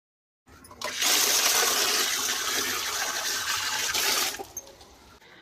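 Water gushing steadily into a drum, a loud, continuous rushing pour lasting about four seconds before cutting off abruptly, heard close and alone.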